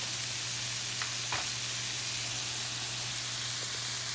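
Bitter gourd (ampalaya) sautéing in a pan gives a steady, moderate broadband sizzle that runs throughout, with a couple of brief clinks and a low steady hum beneath it.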